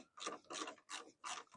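Four quick bursts of ratcheting clicks from a 10mm socket ratchet tightening a bracket bolt on an early bay VW Westfalia bus, sharp and close in a quiet space.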